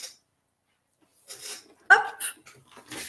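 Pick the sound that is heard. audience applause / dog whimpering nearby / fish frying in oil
dog whimpering nearby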